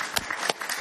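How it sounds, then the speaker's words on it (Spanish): A studio audience on a Spanish-language television talk show bursts into brief applause, a short run of sharp, scattered claps that are fairly loud and close. "Un aplauso para él, por favor."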